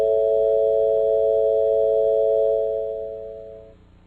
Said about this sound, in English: When we put these mistuned tempered intervals together in a major chord, you can hear the rough and restless quality that Helmholtz referred to.